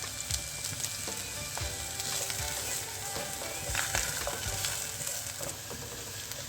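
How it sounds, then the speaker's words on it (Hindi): Chopped onions lightly sautéing in a pan for aloo gobhi samosa filling, a close, continuous sizzle with stirring clicks and spatula taps throughout. "तो अब मैं इसमें डालूँगी अपने कट की हुई प्याज। इसको हमने ज़्यादा पकाना नहीं, बस हल्का सा जो है सौटे करना है इसको।"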